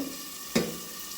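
Potatoes fry in a covered pan with an even, muffled hiss, broken by a single brief knock midway.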